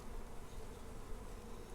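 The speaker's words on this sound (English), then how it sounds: "I do have some bees up here" Honey bees buzz at an open beehive during a hive check with a smoker nearby. The hum is steady and close, with no talking over it.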